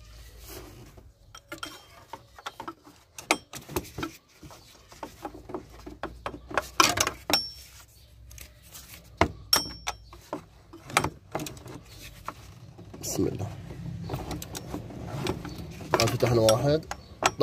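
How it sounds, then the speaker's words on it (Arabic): Metal wrench clicks and clanks against bolts on the power steering pump of a 2007 Ford Explorer, scattered sharp taps and ratcheting bursts close up, with quiet stretches between. "راح استخدم مفتاح"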